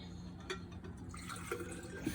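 Cold water poured into a container during a water density demonstration, a faint, trickling fill with small drips and splashes, heard close by and alone.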